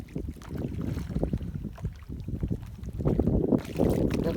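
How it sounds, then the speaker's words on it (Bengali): A wooden fishing boat carrying six people moves fast across wavy river water, giving a steady rumbling wash and splash close by with no talk. "নৌকা যাচ্ছে খুব জোরেই"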